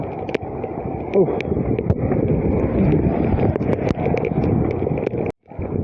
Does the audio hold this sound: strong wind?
yes